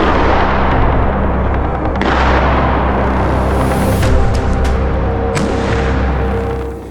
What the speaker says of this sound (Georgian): ეს დიდი ალბათობით ნომერის გასროლა იყო.